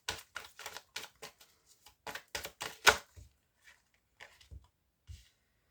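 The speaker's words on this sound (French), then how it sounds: "je vais remélanger" Tarot cards being reshuffled at close range make a run of crisp, papery riffling bursts, then a few softer, sparse taps and slides as the shuffling slows.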